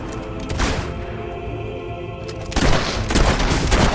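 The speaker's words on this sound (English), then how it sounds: "We're taking fire!" Gunfire in the Fable 3 video game: a dense, continuous crackle of shots that grows louder and heavier partway through, with thumping impacts and no clear speech.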